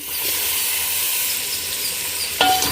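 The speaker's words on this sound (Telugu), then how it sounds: "ఇలా చక్కగా కలుపుకొని ఒక ఐదు నిమిషాల దాకా మగ్గించుకోవాలా టమాటా ముక్కలు" Tomato pieces with a spoonful of rock salt sizzle and hiss steadily in a hot pan, a loud continuous frying sound topped by one brief utensil scrape near the end, with no speech.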